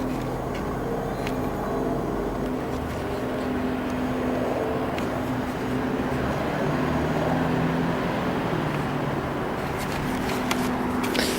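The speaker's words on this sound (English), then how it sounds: "A lot of traffic." Steady, dense city traffic rumble in Toronto fills the scene, with a low droning hum running throughout and no clear pauses.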